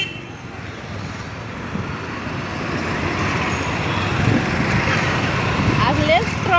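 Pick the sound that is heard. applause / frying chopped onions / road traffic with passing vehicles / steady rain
road traffic with passing vehicles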